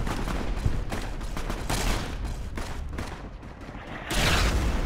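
Dense rapid gunfire in Fallout: New California as raiders and psycho raiders are shot at, a continuous loud fusillade of overlapping shots with a heavier burst near the end.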